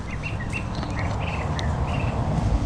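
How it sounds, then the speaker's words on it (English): Small birds chirp and tweet around filled bird feeders on a north-side lawn, several short calls scattered over a soft outdoor background, fairly close and without talk. "birds, I'm disturbing them right now over here on the north side lawn because all their bird feeders are all filled up"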